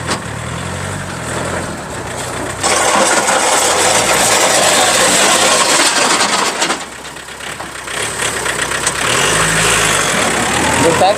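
A 2012 four-wheel-drive car's engine idles steadily and fairly loud nearby, a low continuous hum with slight shifts in level, while someone talks over it.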